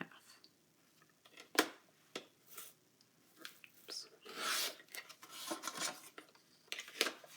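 Paper trimmer slicing cardstock in half, a series of irregular rasping, scraping strokes with soft bumps and pauses between, close by, with a voice talking at times.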